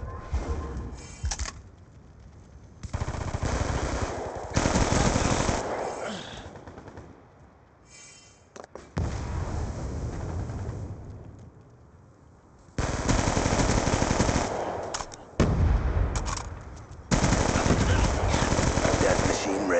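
Death Machine minigun in the video game Black Ops II, firing in long, loud, continuous bursts of rapid fire with short pauses between them, close and dominant throughout.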